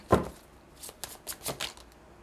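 Tarot cards are shuffled close up in a handful of quick, papery riffles and slaps, the first sharpest and loudest and the rest softer and spaced apart, with no talking.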